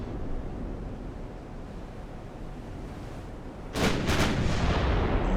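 Naval guns fire in the game Ultimate Admiral: Dreadnoughts during a Black Sea Fleet battle of 1941, a low rumbling sea ambience broken near the end by a loud cluster of booming shots.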